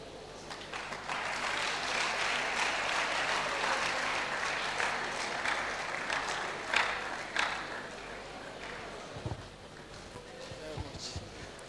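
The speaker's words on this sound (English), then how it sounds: "Please, let's clap for him." Audience applause after a workshop talk on watermelon, tomatoes and snails, a dense steady wash of clapping that carries on for several seconds before thinning out, with a few louder claps near the end.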